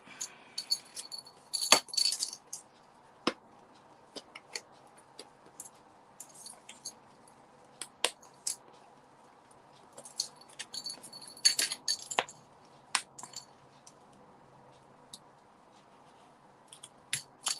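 Scissors trim a paper craft piece in short, crisp snips and small clicks, scattered across a quiet background with a couple of denser clusters, close and faint with no talk.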